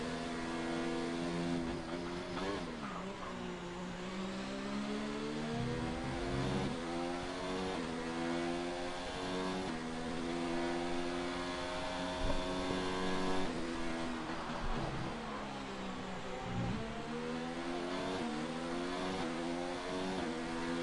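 Racing car engines roaring through an F1 video game race at Bahrain, several harmonic engine whines rising and falling with gear changes and overlapping cars, loud and continuous with no talk.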